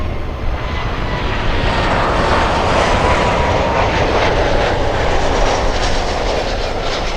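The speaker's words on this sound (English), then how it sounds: "This 747 has never been a passenger 74, always a freighter." A Boeing 747 freighter of Polar Air Cargo roars past at Miami International Airport, a loud, continuous broadband jet rumble that holds steady throughout with no pauses.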